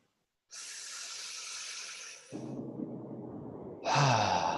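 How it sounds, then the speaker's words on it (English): Someone takes a deep breath during an online talk: a long, airy inhale followed by a rougher, lower exhale, then another breathy rush, all close and clear with no talking. "Let's take a deep breath."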